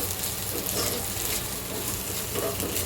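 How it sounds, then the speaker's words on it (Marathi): Ginger garlic paste sautés in a pan over browned onions for Mumbai-style pav bhaji, giving a steady, dense sizzle with faint stirring movement and no voices. "1 चमचा जिंजर गार्लिक पेस्ट। 1 ते 2 मिनिटं परतून घ्यायचे।"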